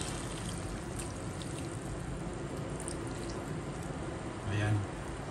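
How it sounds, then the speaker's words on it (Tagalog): Soy sauce poured into chicken adobo cooking in a pot, a continuous close liquid pour with a steady hiss and no one speaking. "So ito guys, lalagyan na natin ng toyo."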